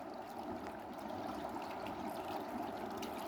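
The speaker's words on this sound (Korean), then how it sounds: "물소리도 좋고" A steady stream of water flows down from a reservoir past rice paddies in spring, a soft, continuous rushing and trickling murmur at a distance with no voices.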